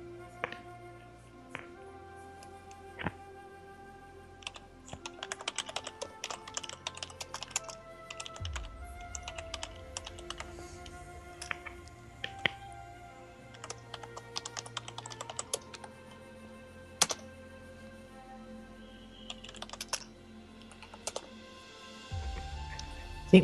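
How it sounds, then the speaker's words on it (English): Typing on a computer keyboard while coding: quick irregular bursts of clicky keystrokes with short pauses, close and clear over a quiet room, no talking. "That's typing without looking."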